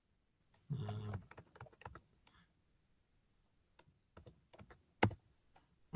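Keys on a computer keyboard are tapped in short, sparse bursts of quiet clicks with pauses between them, faint and close, with a brief low murmur near the start.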